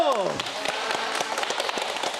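An audience claps for an arriving guest at a Korean studio talk show, a short burst of scattered hand claps following a descending musical sting.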